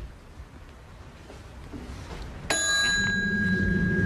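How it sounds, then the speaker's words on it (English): A hotel bellman's desk bell is struck once, giving a sudden bright ring that hangs on and slowly fades in a quiet lobby setting. "I was just playing with the bell."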